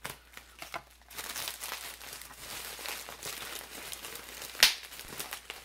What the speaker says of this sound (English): more bubble wrap is popping